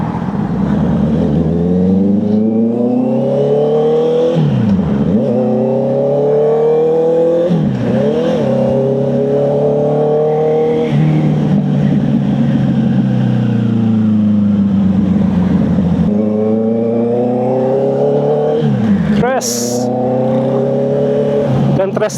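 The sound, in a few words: Honda CB650R motorcycle riding in traffic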